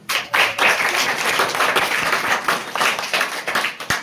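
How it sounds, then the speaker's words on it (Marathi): An audience claps for an event organizer at a Jamner gathering, a lively burst of many hands with sharp individual claps standing out, swelling and dipping before tapering off near the end. "त्यांच्या या कार्यासाठी आपण सर्वांनी टाळ्या बाजवल्या पाहिजे"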